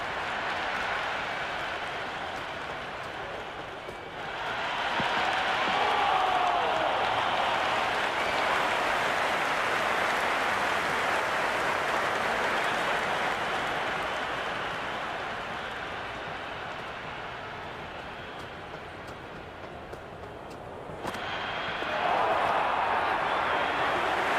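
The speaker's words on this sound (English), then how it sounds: "There is an almost tangible fervour throughout the crowd at the moment." A stadium crowd in the Cricket 26 video game roars in a steady, broad wash that swells and fades over about twenty-four seconds, with brief surges near the start and end; commentary is spoken over it.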